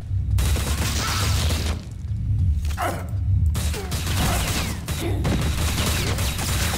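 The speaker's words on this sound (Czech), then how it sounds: "něco po mně střílí a já nevím" Loud bursts of rapid gunfire and booming impacts from the video game Riddick: Escape from Butcher Bay come in clustered volleys with brief gaps, dense and close throughout.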